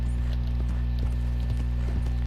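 A horse's hooves clip-clop at a steady walking rhythm in the video game Red Dead Redemption 2, the soft repeated knocks sitting under a constant low droning background hum.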